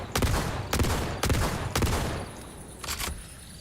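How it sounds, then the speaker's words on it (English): An underbarrel shotgun fires in the Borderlands 4 video game. Four loud, booming blasts come roughly half a second apart, each with a short decaying tail, then a gap before a final softer shot. "Semi-auto on the shotgun has a cooldown time."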